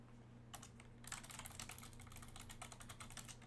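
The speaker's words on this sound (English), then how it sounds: "I thought this was my first mechanical keyboard." Rapid typing on a computer keyboard, close and steady, starts with a few keystrokes, pauses briefly, then becomes a continuous clatter over a low electrical hum.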